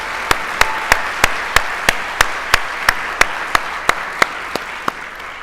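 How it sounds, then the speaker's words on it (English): An audience claps for a banjo band at a health conference, the claps landing in a steady, evenly spaced rhythm of sharp, loud beats over a low hiss of room noise, with no voices. "Let's give another round of applause for the fabulous banjo boys."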